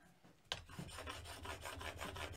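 A plane blade bevel being honed in a Veritas honing guide, giving a rhythmic rasping scrape of steel on a sharpening stone, about ten even back-and-forth strokes, close and faint.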